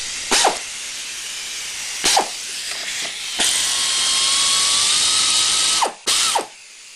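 A hand ratchet removes bolts from a clone 6.5 hp go-kart engine, with loud, close, rapid ratcheting bursts and a sustained whirring spin-down, several separate runs in a quiet shop with no talking.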